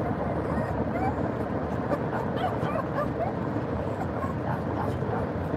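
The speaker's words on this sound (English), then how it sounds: "Stop whining, man!" A dog whines and yips inside a moving car, thin plaintive cries riding over a steady loud road and engine drone for several seconds, with a voice talking.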